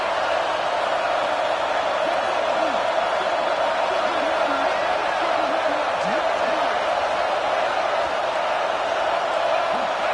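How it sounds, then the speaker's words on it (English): Loud stadium crowd roaring steadily at a Tennessee versus UNC college football game, a dense, continuous wall of noise with a commentator talking over it. "with this place rocking, the crowd forces a false start"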